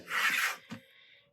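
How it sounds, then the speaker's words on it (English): A rotary cutter slices along a quilting ruler to trim the edge of a fabric half square triangle, giving one short rasping cut followed by a brief scrape, close and alone. "I'm going to take my rotary cutter and I'm going to trim this extra on the side and then the top without moving my ruler"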